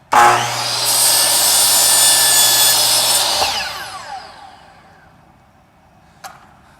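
A power saw cutting wood pieces for a birdhouse, a loud, close high whine for about three seconds before winding down, followed by a short knock.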